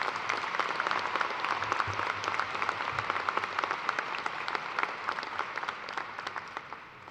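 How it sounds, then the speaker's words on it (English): A large audience applauds at a spring undergraduate commencement ceremony, with dense, sustained clapping that holds steady throughout and tapers slightly at the end. "Please give Mr. Thomas another round of applause to thank him."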